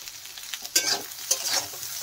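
Soybean chunks frying in a pan with salt and turmeric while being stirred. Close, steady sizzling is broken by a few louder scraping stirs.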